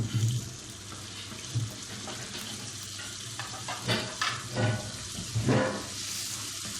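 Tomatoes sizzle and fry in hot oil in a pan for aloo chicken, giving a steady loud crackle with occasional stirring scrapes and bursts throughout, close and without talk.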